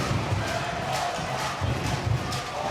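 A crowd at a women's handball match between Ikast Håndbold and Thüringer HC roars and cheers with rhythmic swells, loud and continuous across the short stretch.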